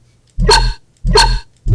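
Two heavy bass hits from the "Meat Bark" sample in the Cyber Trap Vol. 1 pack, each a short, thick, growling burst with a bark-like attack. They repeat in an even rhythm, loud and close, with a third starting at the end and no talking.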